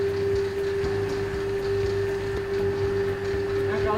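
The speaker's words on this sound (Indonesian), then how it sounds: "Kita aduk rata menggunakan mixer baling-balingnya yang spiral." An electric mixer fitted with spiral dough hooks runs steadily through donut dough made with flour, sugar and instant yeast, a constant motor whine with a low churning rumble underneath, close and even throughout.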